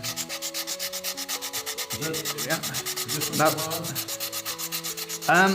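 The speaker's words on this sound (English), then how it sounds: "Now, normally you'd see me sanding straight up and down because that's the direction of the grain." Steady rhythmic back-and-forth rubbing of sandpaper on wood by hand, across the grain, close and loud, with a few other tones sounding underneath.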